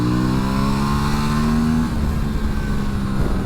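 Engine of a 2024 Aprilia RS 457 motorcycle on a racetrack, loud and close, a steady buzzing drone that rises in pitch and then drops as if shifting or rolling off.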